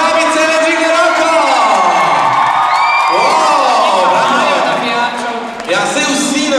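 Children in the crowd at a youth weightlifting competition cheer loudly for the Žabice team, with overlapping whoops and sliding yells. A voice also speaks among the continuous noisy cheering.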